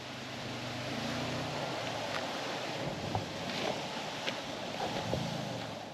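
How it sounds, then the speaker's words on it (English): Wind buffeting a GoPro camera microphone fitted with a new mic mod while hiking outdoors through a lava field on Maui, a steady broadband rumble and hiss that gusts throughout with a few light knocks. "this is a great test for my new microphone, the camera mod for the GoPro. Let's see how much wind it stops"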